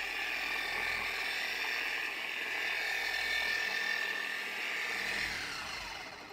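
A car polisher fitted with a 5.5 inch backing pad runs on its lowest setting against an Infiniti G37's paint, a steady close mechanical whir whose pitch sags slightly near the end, alone with no talking.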